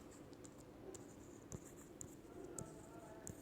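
Pen scratching across paper in short strokes with small taps and pauses, quiet and close, with faint low room noise underneath.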